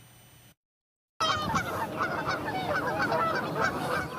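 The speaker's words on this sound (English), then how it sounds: "Tundra swans frolic and tussle on a pond in the Elmer Wildlife Management Area." Tundra swans on a pond in the Elmer Wildlife Management Area call in a busy chorus of overlapping honking, bugling notes, loud and continuous after a brief gap of silence, with no voices.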